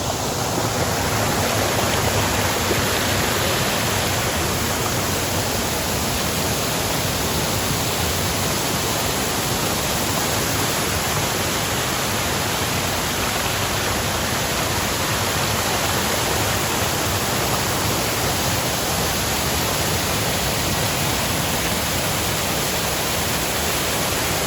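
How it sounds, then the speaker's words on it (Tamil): Pullaveli waterfall in full spate, heavy water crashing down in a loud, steady, broadband roar that holds unchanged throughout, close by and with no voices over it. "ஃபால்ஸில் இருக்கோம், ரொம்ப தண்ணி அதிகமாக இருக்குது."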